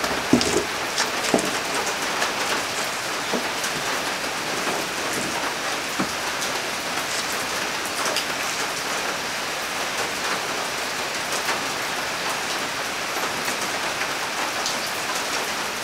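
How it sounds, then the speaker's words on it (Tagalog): Steady rain pours down during a dark downpour, a dense even hiss of drops pattering on surfaces with scattered sharper splashes, continuous and fairly close for the full stretch with no voices. "Umuulan talaga."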